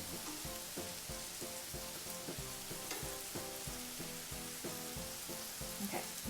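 Smash burgers sizzle on a Steelmade USA flat top griddle, giving a steady, close frying hiss with rhythmic clicks and scrapes from the spatula.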